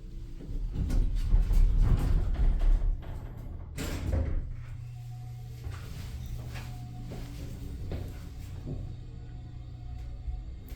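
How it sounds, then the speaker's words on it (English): Mowrey hydraulic elevator doors at a Days Inn and Quality Inn slide open with a rumbling mechanical thud and clunk, followed by a steady machinery hum and faint clicks inside the cab. "the button doesn't go out until the doors are fully open"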